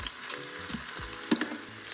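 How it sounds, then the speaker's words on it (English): Onion and ginger pieces char face down in a hot Instant Pot, giving a steady, close sizzle and crackle for broth-making, with a few sharper pops and clicks near the end. "Because we're trying to char that onion."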